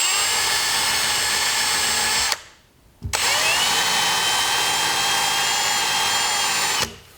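A power tool spins a wheel against whitewashed cabin wood, a loud steady whine that runs for about two seconds, cuts out briefly, then starts up again and holds for nearly four more seconds before stopping.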